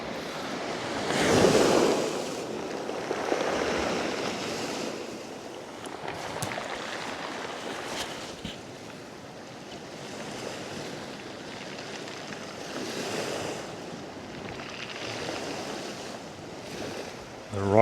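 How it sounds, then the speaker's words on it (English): Waves surge and wash over shoreline rocks at Cap Ferrat on the French Riviera, a broad rushing roar with swells rising and falling, wind buffeting the microphone at times. "The rocks turning over from the waves."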